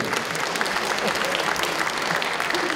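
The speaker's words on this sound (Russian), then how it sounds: "Сильно аплодисменты." Steady applause from a crowd at a Chuvash national congress awards session, dense continuous clapping filling the room without a break.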